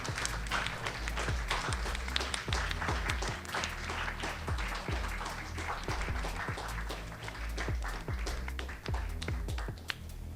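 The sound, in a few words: audience applause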